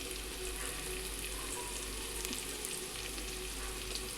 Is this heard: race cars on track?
no